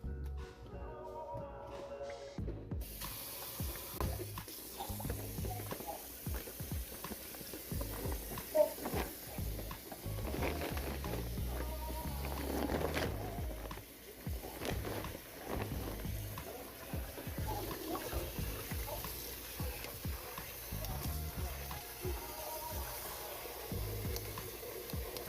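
Freshly picked garden vegetables grown from seed are rinsed by hand in water, giving steady close-up splashing and trickling with frequent small sloshes over about 25 seconds.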